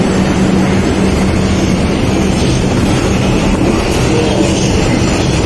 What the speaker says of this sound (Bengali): মেট্রো স্টেশনে এসে গেছি দেখো পাশে ট্রেন চলে যাচ্ছে